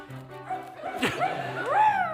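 A dog gives a couple of short whimpering yips and a bark-like cry close by, rising in pitch, over a steady low hum.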